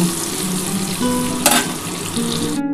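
Potatoes fry in oil for a mutton and potato dish, a loud dense sizzle with a burst of sharper crackle midway and a stirring clatter, cutting off abruptly at the end.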